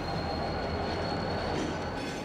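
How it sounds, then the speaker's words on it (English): Two trains rolling through the south side of downtown Kansas City, a steady, loud rumble of wheels and railcars with a faint high whine running throughout, no voices. "Well, we have two trains on the move here."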